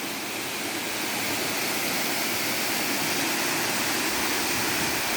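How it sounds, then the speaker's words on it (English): Blue Basson Waterfall rushes in a steady, dense roar of falling water at close range, a constant broadband wash with no pauses or talk across the whole stretch. "Basson Waterfall."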